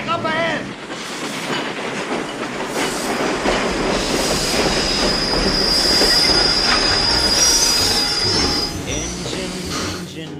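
Museum train braking to a stop on track near a switch, steel wheels letting out a loud sustained high squeal over rumbling, clattering rail noise that builds and holds for several seconds before fading.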